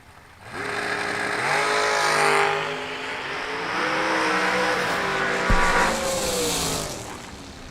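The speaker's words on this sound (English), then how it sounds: "Sound like a pro mod cranked under the tower." A pro mod drag racing car cranks and revs loudly at the track, engine note rising and falling in pitch as it's blipped, with a sharp pop midway and the roar fading slightly at the end.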